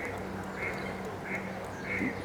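Ducks on a fishery lake quack a few times at a moderate distance over a steady wash of outdoor background noise, with no clear talk over them.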